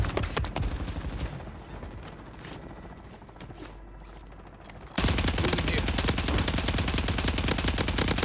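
Rapid automatic gunfire in the video game Warzone, a dense, loud stream of shots that swells sharply halfway through and continues without a break.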